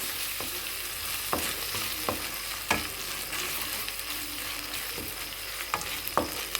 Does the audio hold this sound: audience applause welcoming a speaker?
no